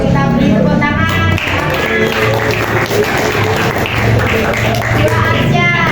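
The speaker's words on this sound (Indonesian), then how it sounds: "Yuk kita beri tepuk tangan." Classroom applause after quiz results are announced: dense, continuous clapping from a group of students filling the room, loud and sustained throughout.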